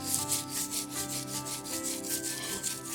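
A rusty clock weight hook rubbed back and forth on steel wool, steady rhythmic scrubbing strokes, close and continuous for a few seconds.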